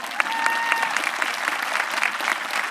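Warm audience applause at a high school graduation ceremony, a dense, loud, continuous patter of many hands filling the hall, with a faint voice briefly audible underneath.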